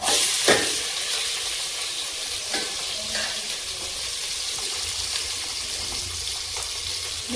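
Chopped onions sautéing in hot oil for a country chicken curry, a continuous close crackling sizzle with a few stirring knocks and scrapes early on, steady throughout and with no voices.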